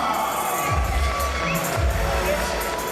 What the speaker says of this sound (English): And a massive round of applause for Liam Barker.